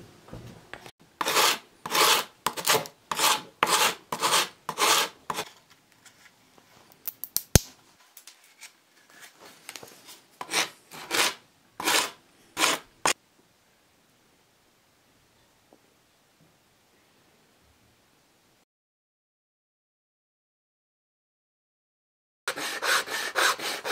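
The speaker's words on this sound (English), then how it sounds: "I used the Shinto rasp fine side and just took all those edges off nice and clean." A fine-sided Shinto rasp files the edges of a wooden bow in quick rhythmic bursts of rasping strokes, close and crisp, pausing to near silence before another burst of strokes resumes.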